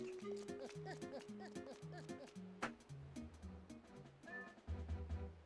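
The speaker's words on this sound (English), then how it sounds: "running up to a horse, which is in full sprint mode" Epona, the horse in the video game The Legend of Zelda: Twilight Princess, gallops in full sprint with rapid rhythmic hoofbeats under steady game music, a brief whinny-like cry partway through.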